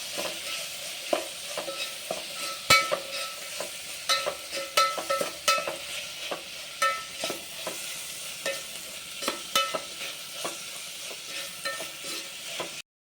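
Curry leaves and ginger garlic paste fry in a pan for a peanut curry, sizzling steadily while a spatula scrapes and taps the pan in a regular rhythm.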